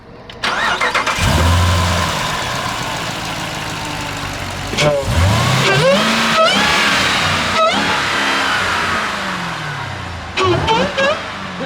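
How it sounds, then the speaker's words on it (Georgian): A supercharged V8 SRT engine in a Jeep Trackhawk, hood open, cranks and fires up close by, then settles into a deep idle broken by several sharp throttle blips and revs. "აი ეხლავე ამ მომენტშივე მინდა ავხადო კაპოს და ძრავის ხმა მოგასმენინეთ"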